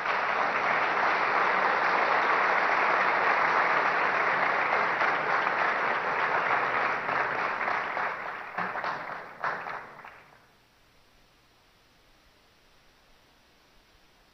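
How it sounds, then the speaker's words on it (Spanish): A large audience at a 2015 Guatemalan presidential candidates' forum gives loud, sustained applause that holds steady for about ten seconds, then thins into scattered claps and dies away to near silence. "les ruego una vez más un fuerte aplauso"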